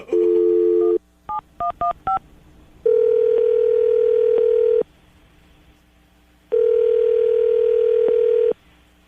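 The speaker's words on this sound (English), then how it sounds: "we're going to dial the phone number right now" Telephone dial tone broken by a quick series of keypad dialing beeps, followed by long steady ringback tones separated by silence, loud and clear with no talking.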